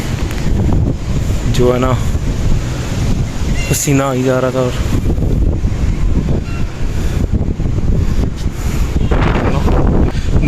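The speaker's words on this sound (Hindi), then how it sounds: "बहुत ही प्यारी हवा चल रही है इस टाइम" Steady wind blowing outdoors in Lahore during monsoon weather, a constant broadband rush with microphone buffeting throughout, under a voice talking.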